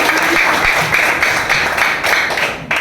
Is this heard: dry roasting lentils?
no